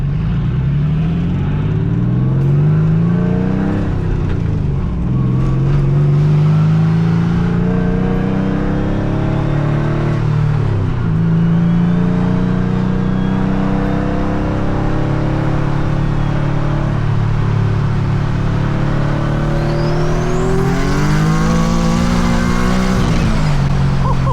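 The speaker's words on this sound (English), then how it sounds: "how is this car moving like this with all this camber?" A boosted, engine-swapped Nissan S15 with heavy camber pulls hard from inside the cabin, its loud engine climbing through gears with rising drone and brief shift dips, continuous and close throughout.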